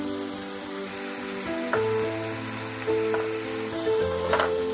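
Chopped tomatoes go into a pan of frying onions for dal fry, a loud steady sizzle with a few sharp bursts as pieces hit the hot oil, backed by a constant low hum.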